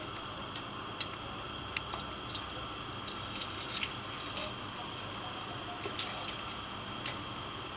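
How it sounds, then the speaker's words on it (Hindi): Cubed potatoes fry in hot oil alongside chicken, a faint, steady sizzling hiss with scattered small pops and crackles throughout. "तो अब हम इसे फ्राई कर लेते हैं।"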